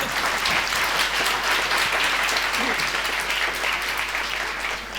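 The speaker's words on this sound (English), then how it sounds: "A round of applause." A conference audience gives a steady round of applause for an all-female marketer panel, a thick continuous clapping from a sizable crowd that tapers slightly toward the end.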